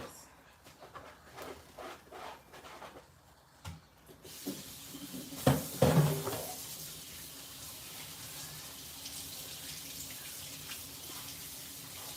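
Very hot tap water runs into a sink while rice is being washed in a home kitchen. After a few seconds of quiet clatter, the water gushes on loudly and then keeps flowing steadily close by.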